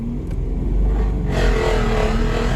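A 2JZ-swapped Ford Mustang drivetrain with the clutch out in gear gives a steady, close engine rumble, then a harsher transmission whine rises and holds from about midway.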